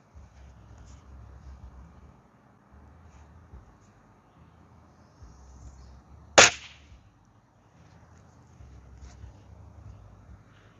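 A single sharp shot rings out against a paper squirrel target from Tractor Supply, a loud crack standing alone over steady low wind rumble.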